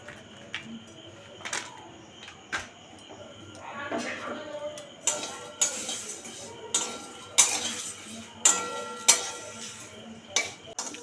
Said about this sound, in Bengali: শুকনো কড়াই আগে একটু নেড়ে নেব